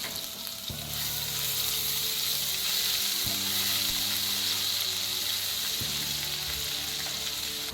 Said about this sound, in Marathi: आता यामध्ये जिरे आणि अद्रक लसूणची पेस्ट टाका याला हलवून घ्या